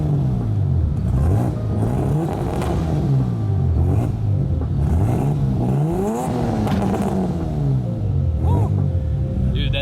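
A turbocharged 1990 BMW E30 engine runs loud and close, climbing and falling through repeated rev swells over a steady rumble, with brief voices in the background.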